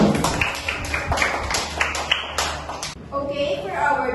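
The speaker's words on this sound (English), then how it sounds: "Let's give them a round of applause" A class applauds a student's answer during a lesson on traffic signs, a short patter of hand claps that fades out as a voice speaks over the end.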